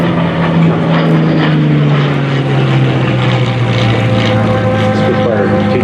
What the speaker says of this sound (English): Spitfire continues to fly top down.